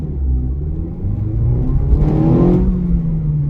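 A Mazda MX-5's naturally aspirated engine revs hard toward its 7,000 rpm redline, its pitch climbing steadily in one loud, continuous pull with a deep rumble underneath.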